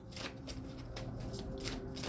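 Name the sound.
shuffling tarot cards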